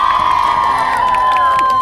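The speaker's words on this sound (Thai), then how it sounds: "ทำไมกรี๊ดกันดังเลย" An audience at a teen music show screams and cheers as a contestant is introduced, a loud sustained crowd roar with high shrieks filling the whole moment.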